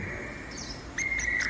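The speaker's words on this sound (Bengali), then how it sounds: "বাইরে কোথায় যেন একটা কোকিল ডেকে উঠল" An Asian koel calls once, a clear rising whistled note cutting through a quiet, humming background.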